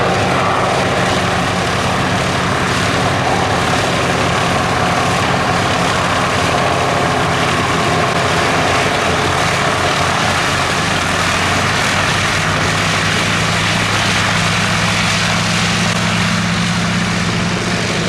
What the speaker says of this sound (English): The Swordfish.